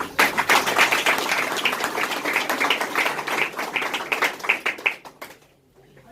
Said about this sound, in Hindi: जोरदार ताली फिर से आपके लिए।